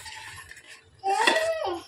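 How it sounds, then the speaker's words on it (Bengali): Metal spoon clinking and scraping in a cooking pot at home, then a lid set down over it; short close clatters that grow louder and busier in the second half, with no talking. "চামচে করে নেড়ে ঢাকা দিয়ে দিই ব্যাস"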